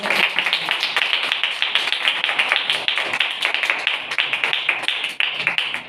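Congregation at a church sermon clapping, a brisk run of sharp, close claps that stays dense and even for six seconds.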